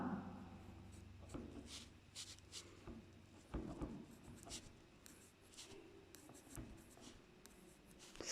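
A pen writes by hand on paper during a Class 6 mathematics lesson. Faint, intermittent scratching strokes come in short bursts, close by, with no talk over them.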